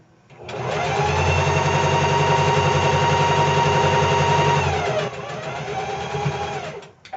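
A sewing machine stitching fabric runs in one steady, loud, fast whir for about four seconds, then slows to a slightly lower hum before stopping, with no talk over it.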